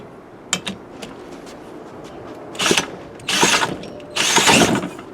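A 1950s Strunk Speed Demon chainsaw is pull-started outdoors: several short ratcheting tugs on the starter cord, followed by three longer rasping pulls, the last giving a brief kick of the engine.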